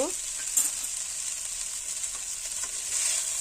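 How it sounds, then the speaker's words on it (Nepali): Potatoes sizzle steadily in a hot pan for aloo thukpa with a constant bright hiss, punctuated by a few soft stirring scrapes. "अब मजाले भुट्नुपर्छ। एकैछिन फ्राई गर्नुपर्छ।"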